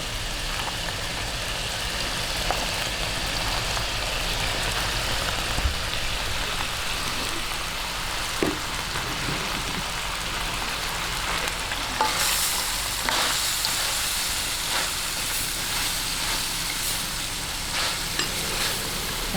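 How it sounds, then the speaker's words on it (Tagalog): Ground meat being stir-fried with firm vegetables for lumpia filling gives a dense, steady sizzle with scattered spatula scrapes and clatters in a pan, close and continuous, without speech. "Ngayon, okay na po itong ating giniling, lalagay na po natin itong medyo matigas na gulay."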